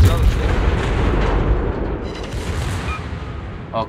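Airstrike bombs burst in the naval combat game World of Warships, with deep booms at the start rolling into a heavy, rumbling blast wash that slowly fades.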